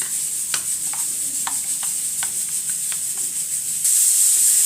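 Harira soup ingredients are stirred together in a large cooking pot, a series of soft scraping strokes over a steady hiss, the hiss growing louder near the end, with no talking.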